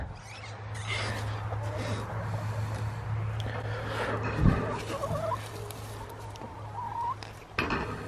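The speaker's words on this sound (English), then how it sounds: "Oh, there's a chicken." Chickens cluck softly around a farmyard coop under steady background noise, with a brief louder bump partway through.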